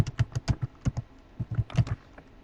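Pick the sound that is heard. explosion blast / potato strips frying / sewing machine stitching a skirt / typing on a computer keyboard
typing on a computer keyboard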